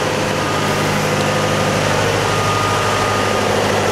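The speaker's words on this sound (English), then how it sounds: "In the heart of this engine room, there are two Cummins main engine, each with 450 horsepower" Two Cummins main engines of 450 hp each run steadily in the engine room of a 37 m steel-hull motorsailer gulet, a loud, close, constant low drone with no pauses.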